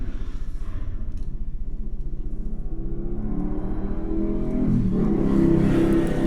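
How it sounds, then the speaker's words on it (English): A loud motorcycle passes outside with a steady throbbing engine pulse that gradually swells and rises in pitch toward the end, heard alone without voices. "That's a loud motorcycle."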